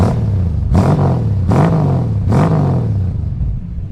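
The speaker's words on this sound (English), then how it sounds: "And then of course, rev it up again" A 1965 Ford Mustang coupe's 200 six-cylinder engine is blipped three times in even succession, each rev rising sharply from a steady idle and falling back, heard close and loud with no talk.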